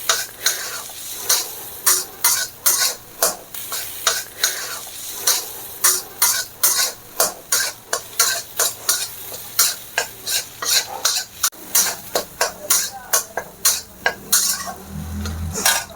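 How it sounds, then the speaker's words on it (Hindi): Moong dal roasting in a pan while being stirred steadily, with repeated sharp scraping strokes of a spoon against the metal over a soft sizzle, close and rhythmic throughout. "कुछ चलाते रहना, इस बात को ध्यान दें कि दाल आपका जो भून रहे हैं जले नहीं"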